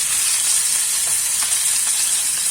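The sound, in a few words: shorputi fish lightly frying in oil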